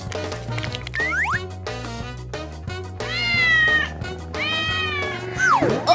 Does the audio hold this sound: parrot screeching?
no